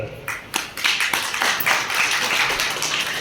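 At a bodybuilding competition show in Gujarat, audience members clap in scattered, uneven bursts that build into a fuller patter, heard fairly close over a few seconds with a little crowd murmur underneath.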